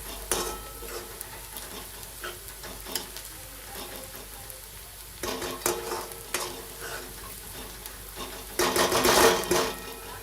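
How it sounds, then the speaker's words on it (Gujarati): Chickpea masala for chhole bhature sautéing in a hot pan, a continuous close sizzle broken by irregular clattering stirs and scrapes, with a louder burst of sizzling and stirring near the end. "આપણે આને સારી રીતે સાતળવા દઈશું જ્યાં સુધી રાતો ગરમ ના થઈ જાય ત્યાં સુધી."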